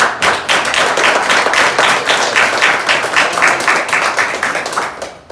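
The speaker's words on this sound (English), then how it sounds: "let's give these guys a round of applause, man" Loud, close applause from a seminar audience for the speakers, with sharp individual claps in a dense, steady burst that thins out toward the end.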